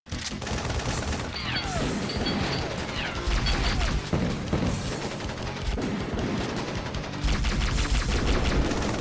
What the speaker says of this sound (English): Master Chief dodging the each and every shot with style